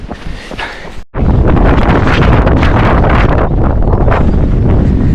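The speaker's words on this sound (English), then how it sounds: "It's windy." Loud, roaring wind buffets the microphone almost continuously during an ultra marathon on Gozo, with a brief sudden drop near the start before the blustery rumble surges back.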